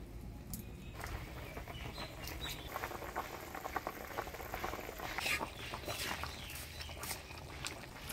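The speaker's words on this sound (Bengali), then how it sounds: "ঝোল জাল হয়ে গেছে" Potato and cauliflower curry broth simmering in a pan, a faint, steady bubbling with soft irregular pops and patter, quiet and close.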